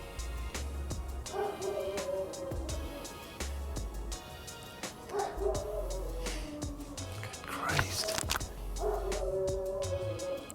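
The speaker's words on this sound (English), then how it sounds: "tell the dog to be quiet" A dog barks and yelps repeatedly during an Arizona monsoon storm, the calls coming in several bursts at moderate distance over steady rain and wind noise.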